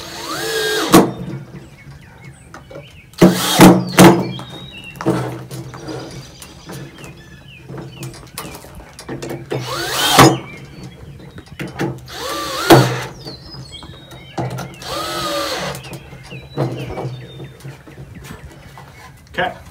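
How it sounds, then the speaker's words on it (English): A power drill drives screws into a wooden birdhouse in several short, loud bursts, while chickens cluck in the background and a person talks between the bursts. "I'm going to go ahead and drill these in"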